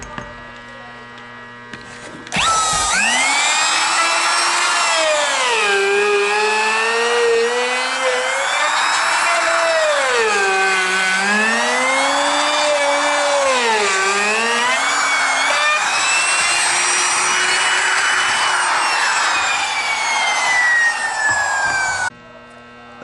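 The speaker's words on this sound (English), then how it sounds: "the bearing will stay nice and right up against the wood there and do a nice job trimming it" A handheld router fitted with a bearing-guided trim bit cuts around the edge of a wooden riser, a loud continuous high whine that rises and dips in pitch as the load changes, close up and unbroken for about twenty seconds.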